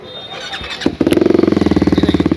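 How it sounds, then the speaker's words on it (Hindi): BMW RR 310 motorcycle fitted with an Akrapovic titanium full-system exhaust, close by; after a brief rough start the engine settles into a loud, steady, rapid idle burble with evenly spaced exhaust pulses. "अब मैं सुनाता हूँ इसकी साउंड एग्जॉस्ट की"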